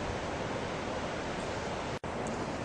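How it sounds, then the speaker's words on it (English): The James River rapids give a steady, broad rushing roar from a bridge high above the water, unbroken except for a momentary dropout. "You can hear the roar of the river up here."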